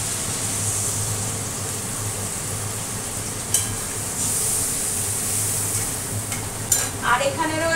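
Spice paste stirred and fried in a pan after fish and potatoes were fried, a continuous close sizzle with occasional scrapes and clanks of the spoon against the pan.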